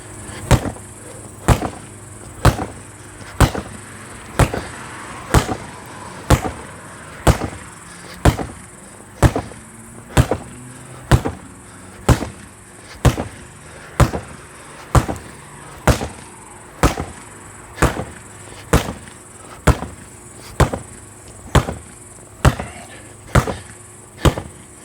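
Sharp wooden strikes land on a wooden pell post in a steady, evenly spaced rhythm, about thirty loud, close knocks over a faint background hum.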